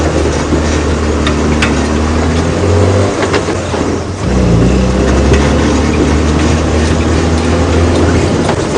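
An open safari drive vehicle's engine runs close and loud with a steady low rumble, briefly dipping and shifting in pitch midway before resuming its continuous drone.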